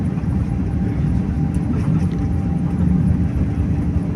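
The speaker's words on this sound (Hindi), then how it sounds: "तो जी थ्रॉटल फुल कर दिया और आपको इंजन्स की रोर सुनाई दे रही है" Airliner engines roar at full throttle on the runway at Incheon Airport during the takeoff roll, a loud, steady low rumble heard from inside the cabin with no talk.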